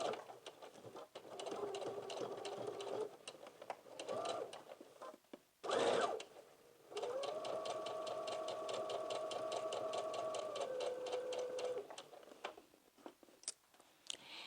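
A sewing machine runs in several sustained bursts while stitching down an A-line skirt waistband along the seam with an all-purpose foot, a steady close whir with brief pauses and a short louder break between runs.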